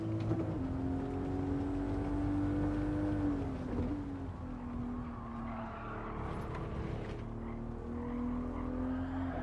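A racing car engine in Gran Turismo 7 drones steadily at high revs, pitch dipping and climbing as it shifts, with faint tire noise and no talking.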